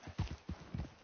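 Horse hooves clip-clop at a steady walking rhythm in Red Dead Redemption 2, with several distinct low thuds close by and no talk over them.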